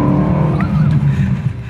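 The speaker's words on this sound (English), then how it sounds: "A 4-litre twin turbo V8 producing 500 kilowatts" Aston Martin DB12 with a 4-litre twin-turbo V8 making a loud, continuous low engine drone close by, holding steady throughout with no voices.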